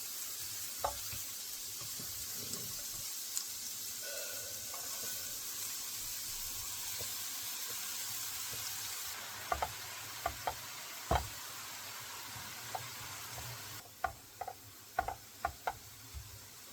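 Minced garlic and chives fry in oil in a saucepan over medium heat, giving a faint steady sizzle broken by several sharp knocks of a utensil against the pan, clustered toward the end.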